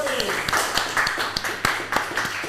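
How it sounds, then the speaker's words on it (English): A small audience at an implant dentistry presentation gives a brief round of applause, with scattered individual claps and some voices mixed in close by. "Another round of applause."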